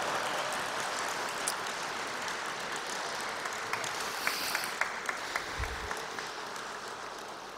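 Applause at a papal concert marking the centenary of Saint John Paul II's birth, a steady broad wash of clapping from a hall audience, fairly faint and continuous with a few sharper claps near the end.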